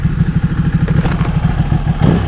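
A 2014 Ducati Panigale 1199R engine, set to its low power mode, runs close by with a rough, pulsing throb at a steady low rhythm, briefly swelling toward the end.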